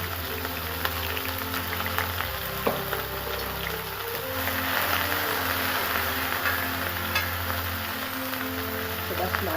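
Onions and bell peppers fry in oil in a frying pan, a steady close sizzle that runs through the whole stretch, with faint stirring scrapes and no talk.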